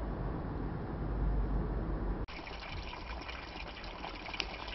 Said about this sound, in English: so here's the water pump. This one here is the one working off the solar panel